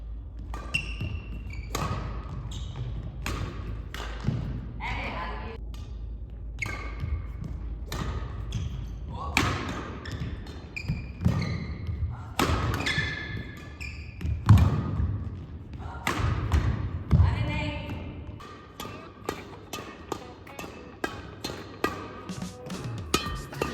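Badminton played with a Li-Ning Axforce 100 racket: repeated sharp strikes and thumps on the shuttle in a steady rally rhythm, with court ambience and people talking underneath.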